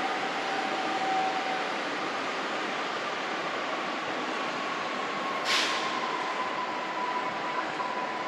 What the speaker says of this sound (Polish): pociąg Dunajec z Krakowa do Nowego Sącza